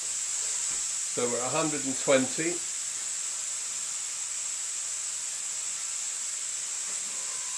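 The steam wand of a Vesuvius EVO Leva single-group dual-boiler spring-lever espresso machine hisses steadily and evenly throughout, a continuous high whoosh that briefly sits under a short spoken remark.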